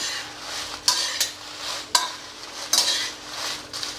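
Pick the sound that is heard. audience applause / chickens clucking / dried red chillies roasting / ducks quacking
dried red chillies roasting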